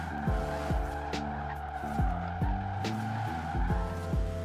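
Tires squeal and skid as a car drifts through corners in the Forza Horizon 4 racing game, with repeated engine revs rising and dropping in a steady rhythm, loud and close, with no talking.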